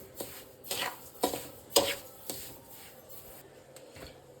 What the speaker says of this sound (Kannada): ಒಂದು 15ರಿಂದ 20 ನಿಮಿಷ ಘಮ ಬರೋ ತನಕ ಮೀಡಿಯಮ್ ಟು ಲೋ ಫ್ಲೇಮಲ್ಲಿ ಕೈ ಬಿಡದೆ ಹುರ್ಕೋಬೇಕು